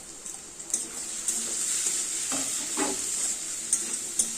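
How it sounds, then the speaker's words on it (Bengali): Potatoes fry with chili, turmeric, cumin and coriander powders in a pan while being stirred, a steady moderate sizzle with a few soft scraping stirs and light clinks, no voices. "লঙ্কার গুঁড়ো হলুদের গুঁড়ো জিরের গুঁড়ো আর ধনের গুঁড়ো এর দিয়ে আবার ভাজা ভাজা করবো ভালো করে"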